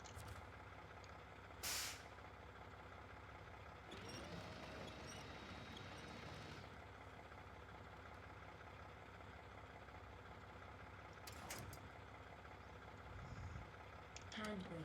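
The air handbrake of a truck in an off-road driving game releases with a sharp pneumatic hiss over a steady idling diesel engine, with another brief air burst later and a person talking over the engine.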